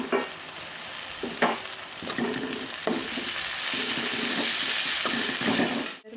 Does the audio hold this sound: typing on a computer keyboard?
no